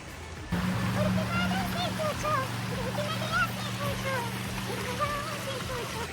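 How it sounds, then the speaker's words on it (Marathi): A river flows over stones in a steady, moderate rush of water that continues throughout, with people talking over it. "बहती नदी इकडे"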